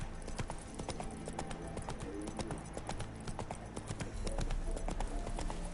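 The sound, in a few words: hooves of Geralt's horse Roach in The Witcher 3 video game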